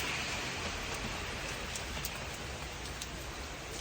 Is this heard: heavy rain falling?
yes